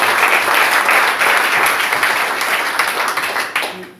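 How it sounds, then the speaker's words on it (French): A church congregation applauds for the Lord, a full, close burst of many hands clapping together that holds steady and then fades toward the end. "Applaudissons d'abord pour le Seigneur."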